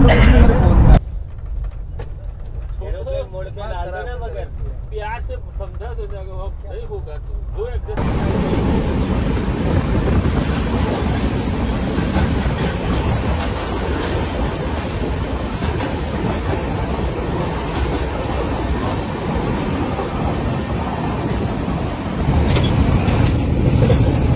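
A passenger train runs through a tunnel, its steady loud rumble and rail clatter filling the space; a short stretch near the start has speech over a quieter cabin before the roar takes over.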